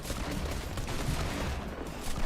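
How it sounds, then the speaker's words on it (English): Grenade launcher explosions during a competitive video game match, a dense continuous barrage of booming blasts and gunfire rolling together without pause. "those explosions are, I'm assuming, coming from the grenade launcher"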